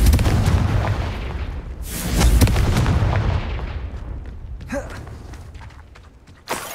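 Confringo blasting spell in Hogwarts Legacy detonates with a deep booming explosion and rumbling aftermath, followed by a few smaller impacts and a sharp burst at the end.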